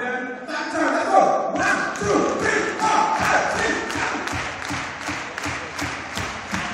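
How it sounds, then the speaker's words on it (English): An audience at a wedding reception claps for married couples. After a voice calls out, clapping gathers into a loud, even patter of many hands, with crowd voices under it. "let's clap for them"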